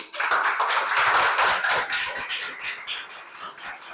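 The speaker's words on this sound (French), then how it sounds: "Est-ce qu'on peut applaudir pour lui?" Schoolchildren applaud together in a classroom at a school in Abidjan, a steady burst of many hands clapping that gradually thins and softens toward the end.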